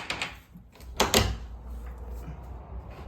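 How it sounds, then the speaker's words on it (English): A house front door opening, with a couple of knocks and clunks of the latch and door movement, then a louder swing and thud near the middle, followed by quiet room tone and faint footsteps. "This is the front door."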